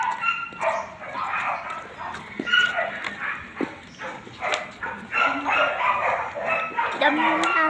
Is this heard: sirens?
no